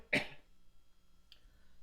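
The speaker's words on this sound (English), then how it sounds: "So I don't cough into the mic" One sharp, close cough bursts out at the start, then a short quiet pause, followed by a faint, brief second sound.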